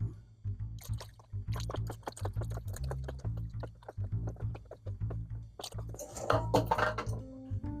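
A spoon stirs cream into tomato basil soup in a pot, giving a run of quick, soft clinks and scrapes in a steady rhythm, close and fairly quiet, with a faint sloshing near the end.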